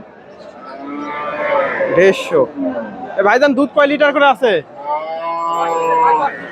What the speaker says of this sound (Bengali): এই যে গাভীটা ফ্রিজিয়ান গাভী